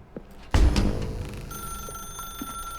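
A telephone rings in the video game The Stanley Parable. After a short, quiet stretch a loud electronic bell-like trill starts, and its steady tonal ring holds through the rest of the clip without any voice.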